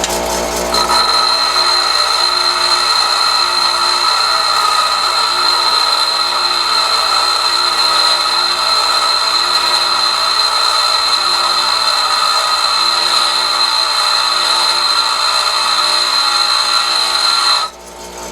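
A bench grinder shapes a lathe tool with a loud, steady high-pitched whine and grinding hiss held continuously for about seventeen seconds, then the pitch drops as it eases off at the end.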